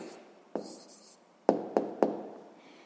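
Pen strokes on paper while writing down a math answer, a few sharp taps and short scratches close by, quiet and spaced out with no talking.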